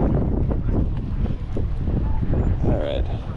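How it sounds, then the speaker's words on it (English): Steady wind rushing across an outdoor flea market, a constant broadband buffeting on the microphone, with people talking and haggling over it throughout. "All that wind."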